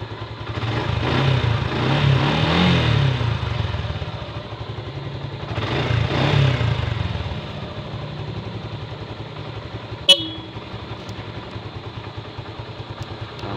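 A repaired motorcycle engine runs close by and revs up twice in long swells, then settles to an idle with a sharp click partway through.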